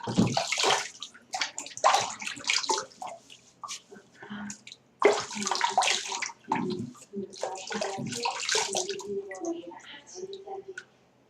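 Water from a tap splashes and drips onto a beard being wetted, coming in bursts of close splashing and sloshing with pauses between them.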